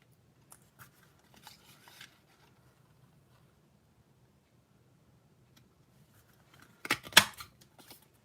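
Scissors trim paper for a handmade card: a few faint, scattered snips and taps, then a brief, louder cluster of cuts near the end.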